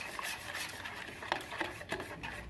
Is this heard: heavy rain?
no